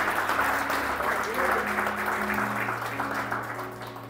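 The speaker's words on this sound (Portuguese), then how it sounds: "Você pode glorificar a Deus com as suas palmas aí?" A church congregation claps together during a Sunday worship service, a continuous wash of hands that swells at first and gradually fades, with a low voice faintly underneath.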